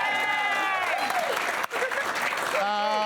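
Studio audience applause for a comedian on a television panel show, clapping running underneath, with voices talking and exclaiming prominently over it and a brief dip midway.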